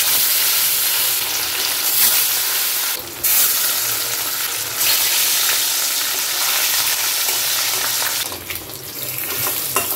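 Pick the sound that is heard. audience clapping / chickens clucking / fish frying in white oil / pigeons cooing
fish frying in white oil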